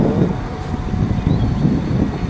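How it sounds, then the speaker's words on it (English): Strong wind roars steadily past the microphone at a flying field where a 3D-printed 30mm EDF Folland Gnat model jet is in flight, a loud, constant low rumble with no talking. "I've got a strong wind"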